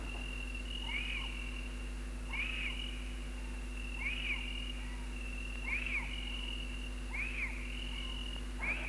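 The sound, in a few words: birds calling in the forest at Angkor Thom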